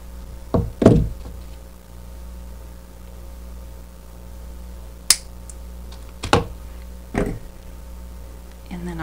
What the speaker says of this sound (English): then I'm going to have to trim the end